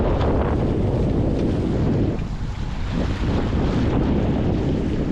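Steady wind rushes and buffets the microphone on a Hobie sailboat cruising in a southeast trade wind off South Texas, with water noise underneath and a brief lull midway.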